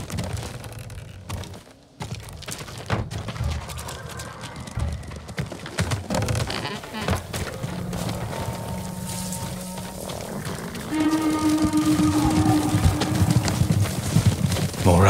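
Horse hooves clip-clopping in the video game Ghost of Tsushima, a steady rhythmic clatter mixed with ambient game effects and a rising rumble toward the end, moderately loud throughout.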